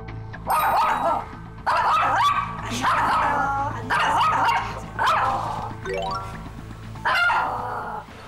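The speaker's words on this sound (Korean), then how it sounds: "자주 보는데 왜 자꾸 짖을까?" Jackson, an aggressive dog at a training academy, barks loudly and close in about six sharp bursts at a steady rhythm, with yips and whimpering tones mixed in.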